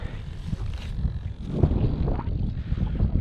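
Gusty wind buffets the microphone at an RC flying field, a steady low rumble with rough surges and no voices.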